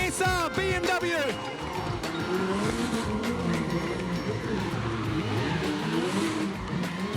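A small SR BMW drift car revs hard with squealing tyres at a North versus South drift show at the Waimate 50 Motorsport Festival, a continuous loud engine roar with a commentator talking over it.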